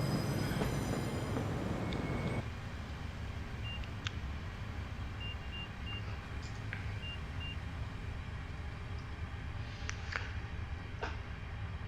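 Simulated GWR IET train running toward London Euston, a steady loud rumbling rail drone throughout, easing slightly after two seconds, with a few faint electronic beeps and chimes over it.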